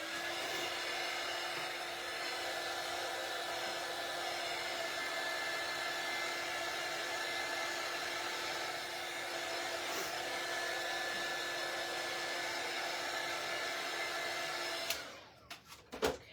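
A hair dryer blows steadily on a freshly painted Santa votive shelf sitter craft piece, a loud continuous whirring hum close by that runs unbroken before clicking off near the end.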